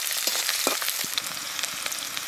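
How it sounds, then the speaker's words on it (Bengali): Onion, ginger and garlic fry in hot oil in a home kitchen curry, giving a steady, close crackling sizzle with scattered pops and no talking. "এই পেঁয়াজ দিচ্ছি তেলে, আদা দিচ্ছি,"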